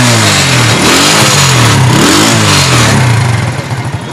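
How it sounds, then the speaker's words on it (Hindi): A used 2021-model Honda motorcycle engine revs hard and loud, its pitch climbing and falling through several throttle blips, close up with no talk. "साउंड इसका सुन सकते हैं, 21 मॉडल है,"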